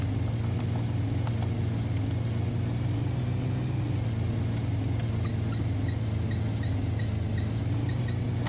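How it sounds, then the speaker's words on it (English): A school bus engine drones steadily while driving, a continuous low rumble with a faint rattle, heard from inside the cabin with no talking. "I do definitely think this bus is a little bit louder than mine."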